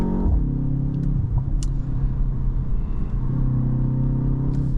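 A 2024 BMW X2 at speed through high-speed corners, heard from inside as a steady low engine and road rumble with a faint tonal drone, continuous and fairly loud.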